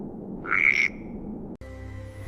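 A cartoon fairy-tale frog in a quiet forest gives one short, bright croak over soft background ambience, followed later by a sharp cut to a busier tonal sound.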